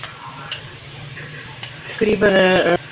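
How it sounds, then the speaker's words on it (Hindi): A soft, steady sizzle of frying crushed ginger-garlic paste and onions in a pan for aloo matar curry, with light stirring and a brief voice near the end. "अदरक लहसुन का जो है वो मैंने कुटा हुआ डाला था, वो भी मैंने इसके अंदर फ्राई कर लिया है"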